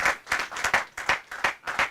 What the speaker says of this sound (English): Okay, now you can applaud.